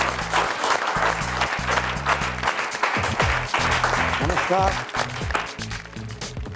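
A studio audience at a televised comedy-poetry show claps steadily throughout. Loud rhythmic music plays underneath, and a voice speaks briefly over it.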